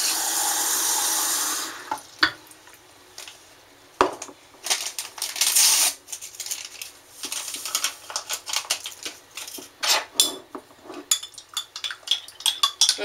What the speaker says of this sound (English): So I'm going to fill up that with water.